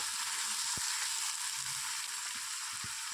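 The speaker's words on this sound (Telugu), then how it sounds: "ఇందులో ఒక 2 పచ్చిమిర్చి వేసుకొని ఆనియన్స్ గోల్డెన్ బ్రౌన్ కలర్ వచ్చేంత వరకు ఫ్రై చేసుకుందాం." Onions, green chillies and tomatoes frying in oil for a cauliflower potato masala curry, giving a loud, continuous close-up sizzle with a few faint stirring knocks underneath, and no voices.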